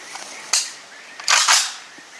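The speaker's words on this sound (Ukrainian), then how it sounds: "Нова версія глушника компанії FromSkill, версія вересня 23-го року в зменшеному габариті е, випробування на звук" Two suppressed shots from an AK (Kalashnikov) rifle fitted with a compact September 2023 FromSkill silencer, each a sharp, loud crack with a short hissing tail, the second followed closely by a brief echo-like burst.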